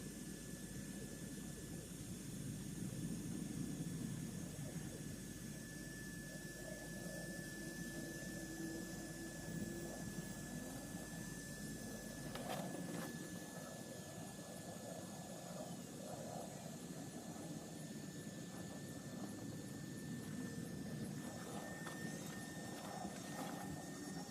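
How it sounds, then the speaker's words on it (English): A small electric air pump inflates an airbed, played back at double speed. It gives a steady, close whining drone with a constant high tone, and its low hum drops away about halfway through. "2 times normal speed, just to illustrate the inflation of the airbed"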